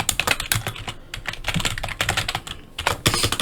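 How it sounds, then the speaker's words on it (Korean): Steady typing on a computer keyboard while entering spreadsheet formulas, dense rapid clicking keystrokes in quick bursts with brief pauses, close and clear with no voices. "이 부분은 문제에서 제시되어 있으니까 보거 똑같이 타이핑하면 돼요"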